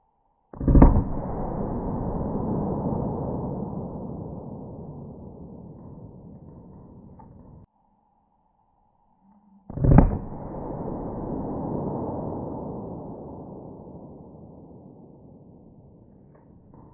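Two loud single gunshots from .32 S&W Long Lapua wadcutter rounds, about nine seconds apart, each a sharp crack followed by a long fading echo at an outdoor range.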